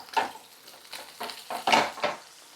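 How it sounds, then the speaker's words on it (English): Pan-seared cod sizzling as the pan is shaken, several sharp bursts of hissing sizzle and scraping in an uneven rhythm, close and moderately loud, with no talking. "Shake that pan a little bit for your fish."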